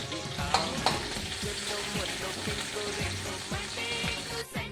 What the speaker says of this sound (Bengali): পেঁয়াজটা লাল করে ভাজা হয়ে গেছে